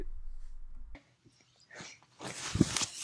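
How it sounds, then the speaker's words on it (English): A dog gnaws on a Minion toy, with close, irregular bites and crunchy chewing that grow busier toward the end after a quiet pause. "Right now he's chewing up a minion."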